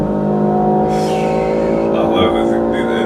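A wrapped, tuned 600 hp BMW M3 G80 accelerates hard from inside the cabin, a loud continuous engine drone rising through a gear with a brief shift break midway, with a voice speaking under it.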